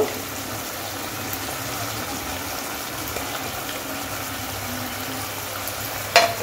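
Ghee going into a hot pan of doi paneer: a steady, even sizzle and bubbling fry that holds throughout, ending with a brief louder clatter.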